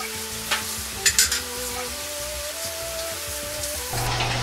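A sauce of garlic, ginger, sugar, vinegar, soy sauce, Ajinomoto and sesame oil being stirred together, soft scraping and a few light clicks over a gentle hiss, with music playing underneath.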